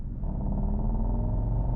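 The new Mercedes-AMG GT's exhaust gives a deep, steady, rumbling growl in comfort mode, with a grinding edge, loud and close, with no voices.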